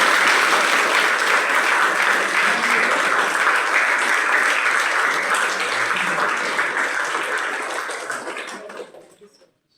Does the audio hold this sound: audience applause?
yes